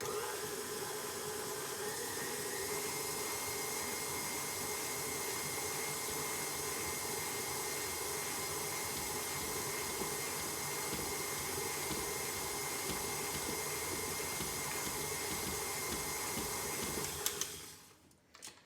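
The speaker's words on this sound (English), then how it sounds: "I'm just gonna go ahead and turn my mixer on again" An electric mixer beats sugar into cookie dough with a continuous, loud whirring drone that holds steady for about seventeen seconds, then cuts off near the end.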